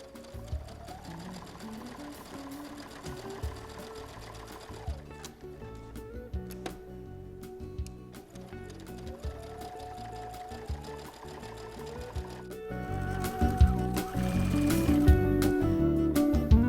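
Close and steady, a sewing machine hums and rattles through quilt wall hanging borders in several stitching bursts separated by brief pauses, growing louder toward the end.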